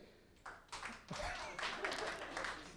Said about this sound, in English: Clap if you're from the city.